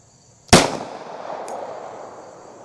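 Single pistol shot from a Rock Island 5-inch barrel fired over a chronograph outdoors, one sharp loud crack with a lingering echo tail, plus a faint metallic tick a second later.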